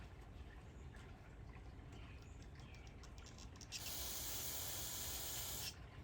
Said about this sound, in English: So let's put a little bit of carb cleaner on this.